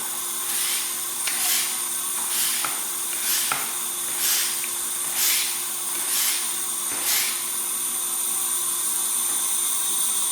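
A hand pump draws oil out of a Husqvarna lawnmower, giving a steady run of hissing, sucking strokes spaced under a second apart, fairly close and loud.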